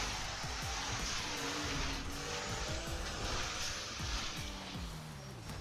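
A 2016 Volkswagen Passat in the GTA 5 video game drives hard with a steady engine roar and tires skidding and squealing throughout, loud and continuous with no talk.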